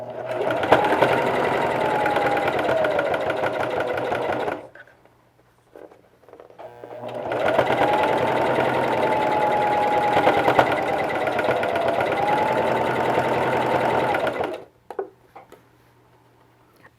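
Sewing machine stitching a fabric face mask with white thread, running in two steady whirring bursts of several seconds each, separated by a short quiet pause, with a brief stop at the end.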